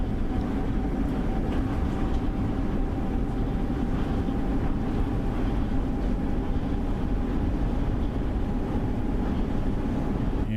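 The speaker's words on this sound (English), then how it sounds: "You can still hear trains in the other tunnel" Steady low rumble of trains running through a neighbouring tunnel in the Train Sim World LIRR commuter route, a continuous droning roar with a faint steady whine, distant and unbroken throughout.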